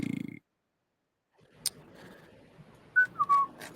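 Short whistled notes near the end, a couple of rising and falling tones over faint background noise, after a brief buzz at the start.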